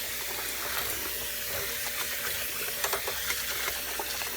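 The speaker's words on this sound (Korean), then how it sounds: "제가 수도꼭지로 이렇게 흐트러 볼게요. 물을." Tap water runs in a steady, close hiss and splash while rice is rinsed clean, with a few soft splashes and clinks toward the end and no talking.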